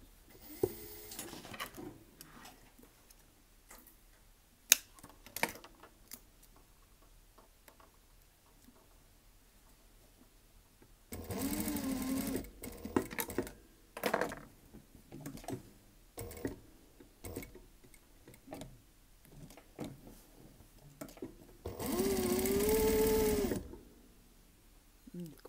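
A sewing machine stitches a lacing strip on a corset back in two short bursts of rapid mechanical stitching, separated by quieter handling sounds and soft ticks.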